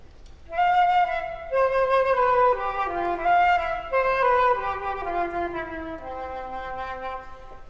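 An Australian romantic and classical orchestra plays a melodic passage in a Pelog-like scale starting on F, with sustained notes stepping through the scale at a steady moderate level and no talking.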